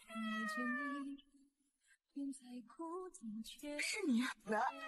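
A cat meows close by several times, with drawn-out, rising and falling cries and short pauses between them, mixed with some talking.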